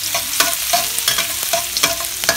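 Garlic stir-frying in hot oil gives a loud, continuous sizzle, broken by irregular scraping and clattering strokes of a spatula against the pan, heard up close with no talk.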